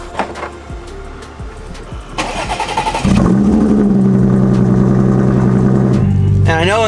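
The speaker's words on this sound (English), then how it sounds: "get one last cold start on the channel of this car" Car engine cold start: a starter cranks briefly, then the engine catches with a loud rev and settles into a steady, throaty high idle, recorded close.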